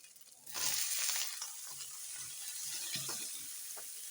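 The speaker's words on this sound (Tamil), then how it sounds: "அந்த மட்டனை போட்டு கொஞ்சம் நல்லா ஃப்ரை பண்ணுங்க" Mutton pieces fry in a hot pan for a mutton chukka, with a steady loud sizzle that swells after a brief quieter start and carries occasional soft knocks of stirring.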